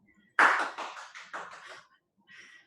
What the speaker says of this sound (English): My husband's in the next room applauding.